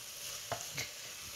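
Onions sizzling in a pot for beef stew, a steady faint hiss of frying with a couple of soft stirring scrapes, close and quiet with no talking.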